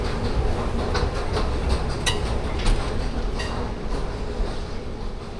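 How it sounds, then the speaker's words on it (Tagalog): An MRT train runs on its rails in Malaysia, giving a steady, loud rumble with rhythmic clicks and occasional brief squeaks, continuous throughout. "Mag-train, MRT. MRT na naman kami."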